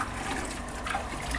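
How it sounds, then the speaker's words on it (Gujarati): Water gushes steadily from a hose on a rooftop terrace during tank and roof cleaning, a continuous close hiss and splash with no talk. "પાણી ઉપર નળી ચાલુ છે"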